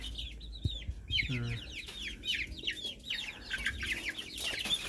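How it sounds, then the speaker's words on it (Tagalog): A flock of imported hybrid Rhode Island Red chickens clucks and squawks nearby in overlapping bursts, with a few lower calls mixed in. "Hybrid to, yung mga imported to, Rhode Island Red."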